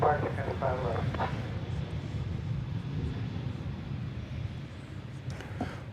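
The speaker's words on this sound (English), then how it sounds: "here comes the Dreamliner bound for Hawaii" A Boeing 787 Dreamliner bound for Hawaii takes off at DFW Airport, its jet engines a broad, steady distant roar that holds throughout, with a person speaking faintly over it at the start.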